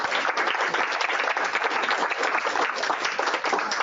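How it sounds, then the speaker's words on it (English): Dense, steady applause from a conference audience at a market-research industry event, sustained loudly and evenly throughout with no voices rising above it. "Let's give a round of applause."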